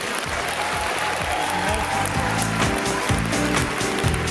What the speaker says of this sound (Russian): это тебе аплодисменты.